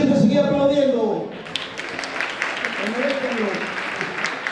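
An audience claps at an Asturian Christmas folk song gathering, with a dense, steady patter of applause that follows the end of a sung phrase while voices carry on over it.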